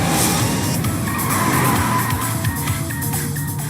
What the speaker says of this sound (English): Grasping the concept of the car chase here.